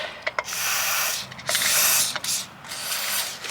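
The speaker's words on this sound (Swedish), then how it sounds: "då kan vi skicka på lite rostlösningsspray på den där muttern där innan vi testar och lossa på den" Aerosol rust remover is sprayed onto a nut on the rear anti-roll bar link of a Volvo V70, producing several short hissing bursts up close, with faint clicks between them.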